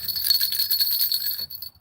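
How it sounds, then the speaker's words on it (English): Small bells jingle rapidly inside a shaken baby rattle, bright and close, for under two seconds before tapering off. "look at this baby rattle"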